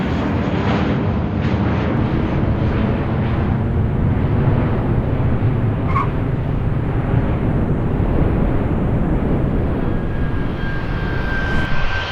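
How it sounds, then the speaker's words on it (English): An Emirates Airbus A380 model aircraft arriving at a model airport gives off a loud, steady jet engine roar that holds for the whole stretch, rushing and rumbling with a brief whine partway through. "Up next we have another huge aircraft, the Airbus A380 from Emirates coming from Dubai."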